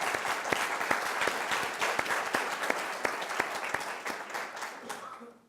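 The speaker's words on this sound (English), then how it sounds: "let's give them a round of applause." An audience at a campus speaking event applauds, a sustained even wash of many hands clapping with a few sharper nearby claps, fading out at the end.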